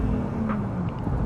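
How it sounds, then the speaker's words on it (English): A Brilliant Red BMW 325iS exhaust purrs with a low, steady rumble, a brief continuous drone heard alone without voices. "the purr and that exhaust"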